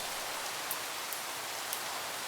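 Steady rain falls in Minecraft beside a New England beach house build, an even hissing patter with a few faint clicks, no talking over it.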